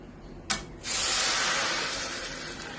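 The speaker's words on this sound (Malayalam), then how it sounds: "ഇതിലേക്ക് വെള്ളം ഒഴിച്ചു കൊടുക്കാം" Boiling water poured onto small kaima rice lightly fried in ghee: a brief clink, then a sudden loud, steady hiss and rush of water that slowly eases off, close by with no speech.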